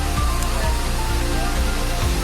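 Steady, loud rush of the Manche waterfall at Devgad in Konkan, a continuous broadband roar filling the whole moment with no break, close by and dominating everything.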